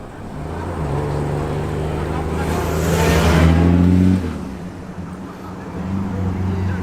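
Classic Healey sports car on a road run, engine note building as it approaches and passes close with a brief loud whoosh, then fading to idling engine hum; a voice speaks faintly.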